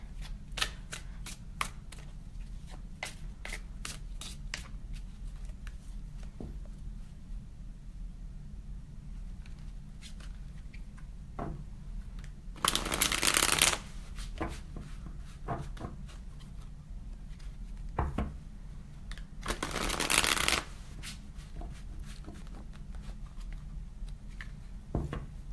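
A mythology tarot deck being shuffled, its cards riffling and slapping in quick repeated bursts with two louder flurries of shuffling, close and alone with no talk.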